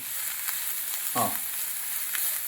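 Chopped onions frying in oil in a pan for egg bhurji, a steady soft sizzle with a brief louder scrape of stirring midway, close and alone.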